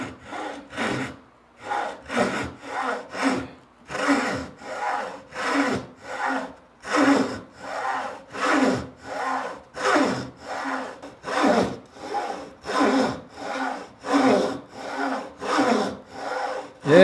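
A traditional Korean hand saw cuts through wood in steady rhythmic strokes, each a rasping push-pull about once per second. The sawing is close and continuous and runs alone without talk.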